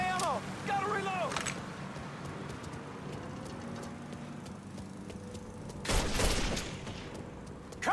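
Gunfire in the video game Mafia 3, a chaotic firefight with scattered shots under shouted voices, and a louder burst of blasts around the sixth second.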